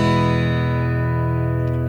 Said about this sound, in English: when you strum the open strings